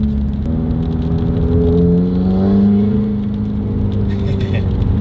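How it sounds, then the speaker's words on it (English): Turbo spooling on an FA20 Subaru WRX at 5 PSI boost: a loud, close whirring whine climbs in pitch over the engine drone, peaks midway, then eases back down. "Dude, turbos in these are so loud. It's only like, that was 5 PSI boost."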